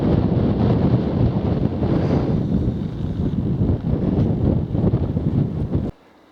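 Strong wind buffets the microphone on an exposed chalk hilltop about 450 feet up at Mount Caburn nature reserve near Lewes, a loud continuous roar and rumble with gusts that cuts off abruptly at the end.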